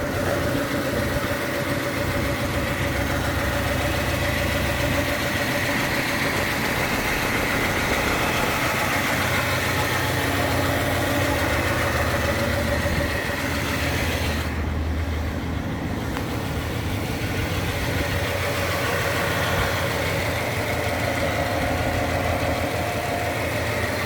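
A 1967 Lincoln Continental engine idles steadily at close range, a continuous even rumble that holds throughout with no speech.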